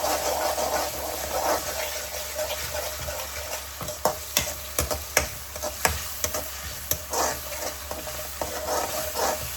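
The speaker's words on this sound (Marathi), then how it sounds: "सॉटे करायचं." Spinach bhaji masala sautés in a pan, a steady low sizzle with repeated clicks and scrapes of a spoon stirring, close and continuous with no talk.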